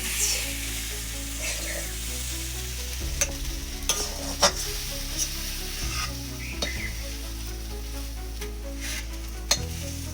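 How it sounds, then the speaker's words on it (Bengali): Onion stalks and potato frying with sesame in a pan, a continuous sizzle punctuated by several scraping stirs of a spatula, close and steady with no talk. "এবার এই পেঁয়াজ কলিটা আলুটা ভাজা হয়ে গেছে তিল দিয়ে"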